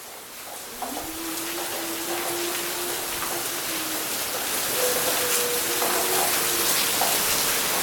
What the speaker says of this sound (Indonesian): Hujan, suasana sangat mencekam.